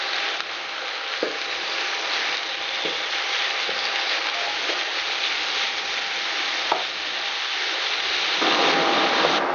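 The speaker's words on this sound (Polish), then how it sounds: "i smażymy, aż się zarumieni." Chicken meat sizzles and fries in a pan with chili for a spicy goulash soup, a dense continuous crackle with occasional sharper pops and stirring clatters, close and steady throughout.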